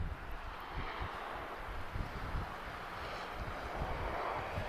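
EasyJet airliner arriving at Lisbon Airport in a strong headwind and crosswind: a moderate, steady engine rush and rumble with gusty wind buffeting the microphone, no voices.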